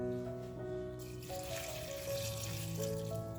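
Water runs steadily from a tap into a pot of horse gram, its pitch rising gradually as the container fills.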